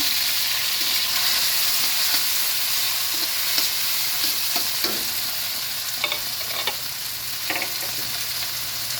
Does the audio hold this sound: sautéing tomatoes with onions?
yes